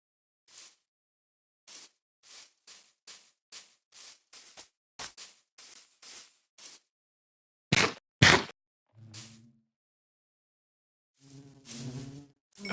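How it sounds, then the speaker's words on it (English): A run of short, evenly spaced bee buzzes in Minecraft, then a few louder bursts and some higher electronic tones near the end. "Another beautiful bee"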